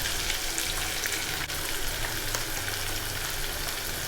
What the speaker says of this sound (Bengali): এবার মশলাটাকে ভালো করে ভেজে নিতে হবে তেলের উপরে